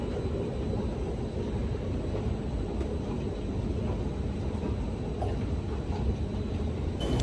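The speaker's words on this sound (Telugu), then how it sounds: "ఇదంతా న్యూ ఢిల్లీ మెట్రో స్టేషన్." Ambience at a New Delhi metro station on a rainy day: a dense, steady rumble of trains and machinery fills the space, loud and continuous with faint scattered clatters, no clear voices.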